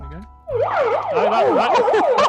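A toy megaphone siren wails loudly in rapid rising and falling sweeps for about two seconds, with people talking over it as it starts.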